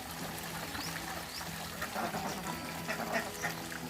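Ducks quack intermittently around a farm pond where they feed on duckweed, the calls moderately near over a steady outdoor background.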